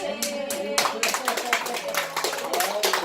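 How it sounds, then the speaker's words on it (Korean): Several people clap at a local town discussion meeting, distinct hand claps repeating through the moment as voices talk underneath. "나주시장님 박수 한번 쳐주고"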